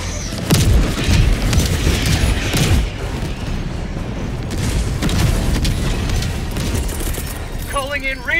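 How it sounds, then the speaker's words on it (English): Orbital barrage strikes in Helldivers 2 land as a rolling series of loud, heavy explosions and booms throughout, with brief lulls between impacts; radio-style voice callouts and chatter sound over the blasts. "Orbital barrage."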